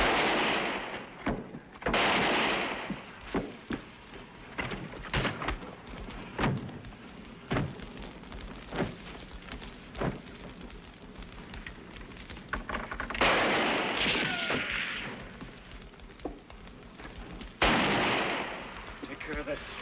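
Gunshots ring out in an old Western drama, aimed toward a wagon: a dozen or so sharp, loud reports in irregular succession, some booming and echoing, with brief pauses between bursts.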